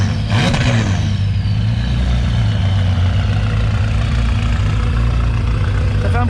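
A Ferrari Testarossa idles at a tuning workshop, a steady, deep, rumbling engine note that carries on evenly throughout, with a slight blip near the start.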